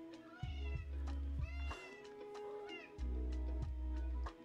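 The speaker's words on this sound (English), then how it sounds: "Is Phoebe a very vocal cat?" A cat meowing loudly and insistently close by, several drawn-out calls in a row with short gaps between them, nearly alone with little else underneath.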